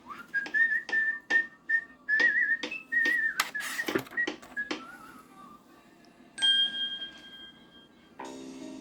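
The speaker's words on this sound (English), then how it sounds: "He whistled while he worked." A person whistles a lively tune in short bursts amid sharp hammering knocks, followed by a couple of bright bell-like dings near the end.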